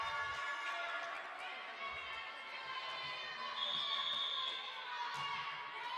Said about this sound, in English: And the crowd is excited